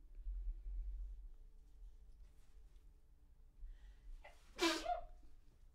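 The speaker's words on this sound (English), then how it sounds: "I just realized I need to sneeze." One sudden, forceful sneeze bursts out near the end after a quiet stretch with soft background hum, during a drawing livestream.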